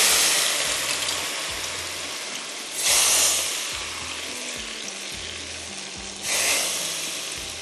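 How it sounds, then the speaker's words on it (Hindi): Steady loud sizzling of hot cooking oil poured for tempering, swelling into two brief hissing bursts, with faint clinks in the background and no talking. "अब क्या करेंगे, इसके अंदर डालेंगे गरम गरम शाहताज कुकिंग ऑयल का लगाएंगे तड़का"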